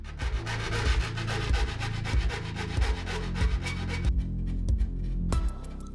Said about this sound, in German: Anschließend bringen wir das Ganze mit einer Feile in Form und entgraten alle Kanten, um Verletzungen vorzubeugen.